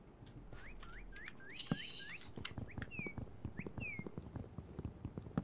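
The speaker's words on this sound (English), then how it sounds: "I hear birds." Birds chirping in the Minecraft modpack CrazyCraft: a string of quick rising whistled chirps, close and fairly clear, repeating in loose bursts over soft clicks and background noise.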